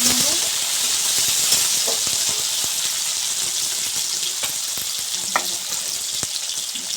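Tomatoes frying in a pan for a ridged gourd dish, with a steady loud sizzle throughout and scattered knocks and scrapes as they are stirred, close by.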